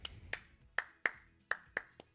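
Six sharp, isolated claps spaced unevenly over a couple of seconds, crisp and fairly close, with quiet gaps between them.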